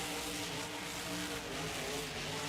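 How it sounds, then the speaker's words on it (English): A monster truck engine in the BeamNG driving game, stuck in first gear during a Halloween freestyle show, drones loud and steady throughout, a continuous close rumbling roar with no speech. "Sounds like that truck has lost second gear."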